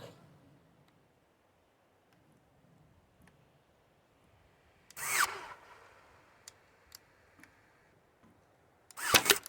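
A Ryobi power drill driving into two pieces of 1x2 wood: two short loud bursts separated by quiet pauses with faint clicks, heard close and alone.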